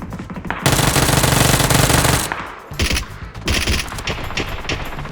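Loud, sustained automatic gunfire in the video game PUBG, with a long burst followed by shorter bursts of rapid shots, close and dense.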